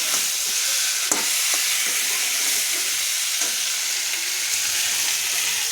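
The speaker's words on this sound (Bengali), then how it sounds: "এই যে পেঁয়াজটা লাল লাল হয়ে আসার পর দিয়ে দিয়েছি চিকেনটা, ম্যারিনেট করে রাখা চিকেনটা।" Marinated chicken frying in a pan with onions browned red, a continuous close sizzle with occasional clinks and scrapes from stirring, no voices.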